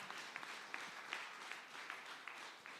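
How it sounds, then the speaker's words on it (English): A small seminar audience claps for someone speaker, a faint, thin patter of applause with a few sharper individual claps standing out at a steady rhythm. "Let's give her a round of applause again."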